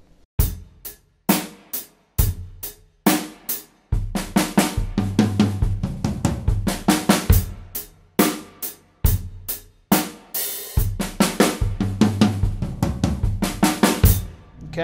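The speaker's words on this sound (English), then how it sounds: "That's a fill that we're going to play with just a standard eighth note money beat." A drum kit plays a steady eighth-note money beat that breaks into linear sixteenth-note fills, with sharp snare and tom hits, kick thumps and cymbal crashes repeating in tight, loud cycles.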